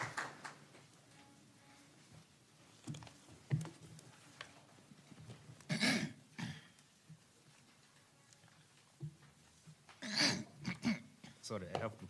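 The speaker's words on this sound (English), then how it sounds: "Sorry, I have to clear my throat" At an international writing panel, a speaker clears their throat in two or three rough, close bursts, spaced apart with quiet room noise and faint ticking between them.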